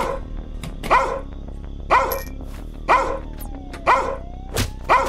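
A dog barks in a steady series of about six sharp barks, roughly one per second, fairly close and loud against a quiet indoor background.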